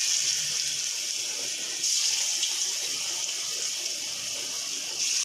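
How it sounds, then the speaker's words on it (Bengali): Chicken pakoras slipped one at a time into moderately hot oil, giving a steady, close hiss of bubbling fry sizzle that swells slightly partway through and carries on evenly without talk. "এবার আমি একটা একটা করে এখানে পকোড়াগুলো ছেড়ে দিচ্ছি"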